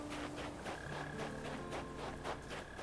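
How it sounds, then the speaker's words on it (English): A cricket chirps in the video game Animal Crossing: New Horizons, a steady run of short repeated pulses over soft layered game ambience with faint sustained tones, continuous and moderately quiet throughout. "I do hear a cricket of sorts"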